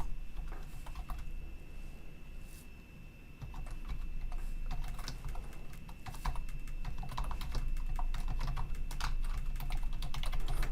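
Steady, fast typing on a computer keyboard while entering R filtering code, crisp clustered key clicks running throughout at a moderate, close level with no talking.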